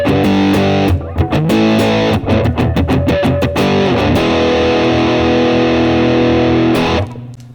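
Electric guitar played through a fuzz effect, loud and saturated with heavy bass, strummed chords and choppy palm-muted bursts before a long sustained ringing chord that cuts off abruptly.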